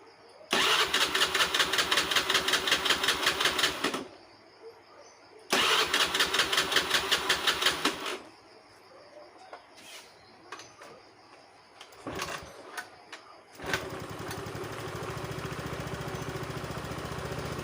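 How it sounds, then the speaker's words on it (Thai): A Honda Scoopy-i scooter with a fault that stops the electric starter from firing is cranked in two long whirring bursts that fail to catch, followed by scattered clicks and knocks, then a kick start brings the engine to a steady idle. "สตาร์เท้าติดนะครับ สตาร์มือไม่ติดนะครับ"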